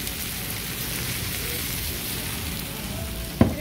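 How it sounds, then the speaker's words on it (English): Food sizzles and fries at Maharaja Palace Restaurant in Guyana, a dense, steady crackling hiss heard up close, with a brief clatter near the end. "Listen to this sizzle, guys."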